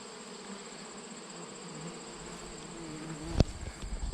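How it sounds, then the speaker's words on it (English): Bees buzz steadily around a hive in a continuous droning hum, with one sharp close knock near the end. "There's bees everywhere"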